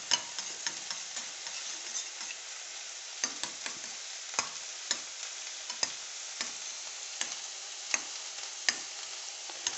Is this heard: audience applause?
no